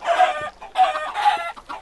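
Chickens in the Minecraft video game cluck in three short bursts, close and clear, with no other sounds around them.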